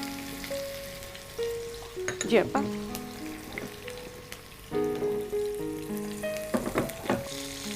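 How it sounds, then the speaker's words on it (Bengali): Onion frying in oil until reddish, a close, continuous crackling sizzle with stirring scrapes, while someone briefly speaks and sustained music tones play underneath. "এখন এটা একটু পেঁয়াজটা লাল করে ভেজে নেব"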